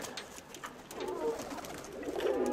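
Pigeons cooing at a dovecote, with soft, low, repeated coos murmuring fairly close over faint background noise, with no talk.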